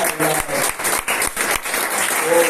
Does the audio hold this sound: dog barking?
no